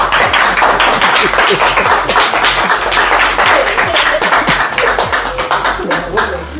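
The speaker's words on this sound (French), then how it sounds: "applaudissez pour lui" Loud, close applause from a church congregation during a sermon, a dense and continuous clatter of clapping hands with some voices mixed in, tapering slightly near the end.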